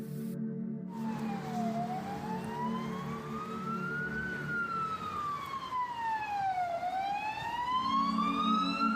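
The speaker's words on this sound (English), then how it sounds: "There are sirens in the distance." Police sirens wail in a slow rising and falling sweep over steady traffic rumble, the tones sounding somewhat distant and continuing throughout, with no talk.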